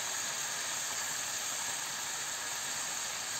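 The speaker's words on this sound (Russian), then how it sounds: "Обжариваем до тех пор, пока лишняя влага не вышла из мяса." Beef pieces sizzling in a hot pan over high heat, a steady, even hiss of frying that holds constant throughout with no talking.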